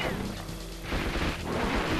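Rapid shooting at enemy planes in Crash Bandicoot 3: Warped, a steady loud stream of shots and blasts layered with game music and effects, continuous for the whole moment.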